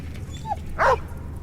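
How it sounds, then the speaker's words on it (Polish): Dog from the Valiant Hearts: The Great War video game gives a short whimper, then one louder, clearer bark-like yelp, both close over a low game ambience. "I znowu nas uratował piesiek."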